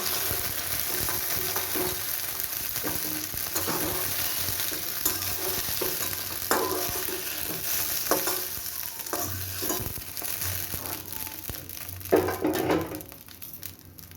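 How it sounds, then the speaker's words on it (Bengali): Okra frying in oil in a wok, with a continuous close sizzle and frequent spatula stirring and scraping throughout. "আরও 1 মিনিট এইভাবে ভেজে নিয়ে তারপর আমি ঢ্যাঁড়সটাকে তুলে নেব।"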